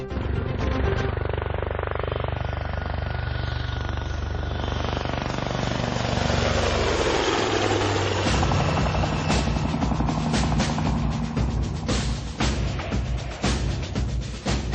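Military helicopter in flight with a loud, constant rotor and engine roar throughout, a rhythmic blade chop growing clearer in the second half, heard from close by with no talking.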